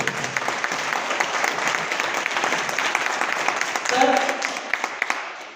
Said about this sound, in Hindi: एक बार जोरदार तालियां हमारे महापुरुष रामेल सर के लिए।